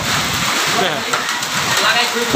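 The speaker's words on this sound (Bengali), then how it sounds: "এই শুরু হয়ে গেছে সেই কালবৈশাখী ঝড় দেখছেন প্রচণ্ড বৃষ্টি প্রচণ্ড" Heavy rain in a Kalbaishakhi storm, a dense continuous wash of downpour close by, with a person talking over it throughout.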